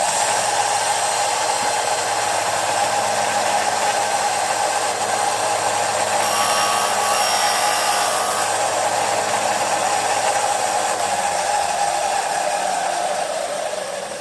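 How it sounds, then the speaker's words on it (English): A bench grinder runs with a steady, loud whine as a metal airfoil pen kit part is briefly pressed against it to shorten it. A short brighter scraping burst marks the contact partway through, and the motor winds down near the end. "we need to give it just a little kiss against the grinder"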